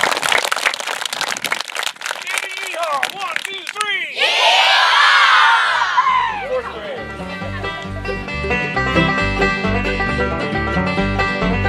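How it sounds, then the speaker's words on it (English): A crowd at a cattle-branding event swells into applause and cheers for the brander midway through, following someone talking, then gives way to music. "Let's give our brander a big round of applause."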